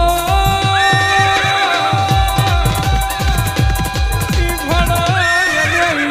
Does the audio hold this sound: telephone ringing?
no